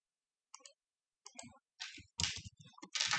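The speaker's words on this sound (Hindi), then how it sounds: "मैं यहाँ पे क्लिक करूंगा" Mouse clicks on a laptop while copying a backup from a CP Plus or Dahua DVR/NVR, with a few sharp isolated clicks early and then louder, denser clusters of clicking toward the end.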